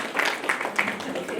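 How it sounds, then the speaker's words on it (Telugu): An audience claps at a Rithika Foundation Ugadi women's awards ceremony, producing a steady wash of applause with a few sharper hand claps standing out, heard close and fairly loud. "మీకు గట్టిగా చప్పట్లతో వాళ్ళని అభినందిద్దాము"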